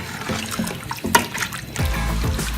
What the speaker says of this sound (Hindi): अभी मैं इसमें पानी ऐड करूँगी और फिर इसे पकने के लिए छोड़ देंगे।